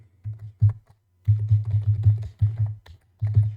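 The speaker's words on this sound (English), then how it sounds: "Okay, I have to type it" Typing on a computer keyboard: quick clusters of close, crisp key taps in irregular bursts with brief pauses between them.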